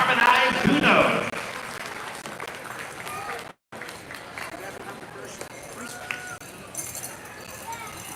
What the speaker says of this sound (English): Give them a round of applause as they make the stage.